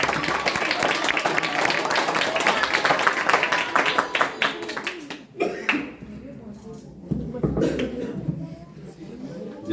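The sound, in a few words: audience applause for a pastor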